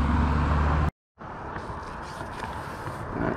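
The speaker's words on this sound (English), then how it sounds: "Sorry for all the traffic noise." Road traffic rolls past a bridge in a steady, loud roar with a low rumble. The sound cuts out for a brief moment and then resumes at the same level.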